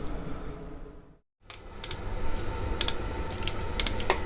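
Torque wrench tightening Dyno Don header bolts to 25 foot-pounds on a third-generation Camaro F-body, heard as steady ratcheting clicks with a few sharper metallic ticks over a dense, noisy background after a brief gap.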